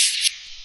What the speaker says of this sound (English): Hand sanding the metal tank with fine grit sandpaper and water,